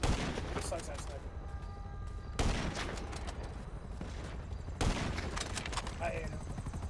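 Sniper rifle fire in GTA 5 Online on Xbox One, with loud, sharp shots about every two and a half seconds over continuous game noise and people talking.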